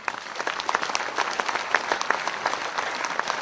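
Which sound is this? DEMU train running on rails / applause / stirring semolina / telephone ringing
applause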